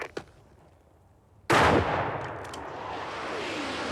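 Sharp blast of comedic sketch gunfire after a sudden silence-breaking burst, loud and close, followed by a long rumbling roar that fades slowly with crackling debris and a few small pops.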